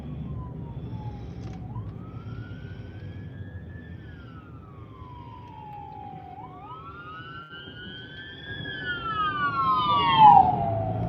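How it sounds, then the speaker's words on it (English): Two ambulance sirens on a Florida island road, wailing and sweeping up and down as they pass, overlapping and growing louder toward the end over steady traffic rumble. "Two ambulances, that's crazy."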